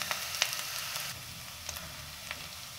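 Onions browning in a pan for a Lahore-style tawa daal anda, a quiet steady sizzle with a few soft clicks of stirring.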